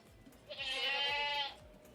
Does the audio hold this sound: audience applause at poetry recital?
no